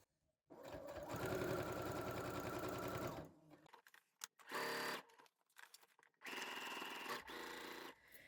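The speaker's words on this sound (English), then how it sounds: "get your hands to the machine and make sure that you're sewing in the correct place" A sewing machine stitches fabric backed with foam stabiliser. Its steady mechanical whir sounds up close in three runs: a long run of about three seconds, a short burst, then another two-second run, with quiet pauses between them.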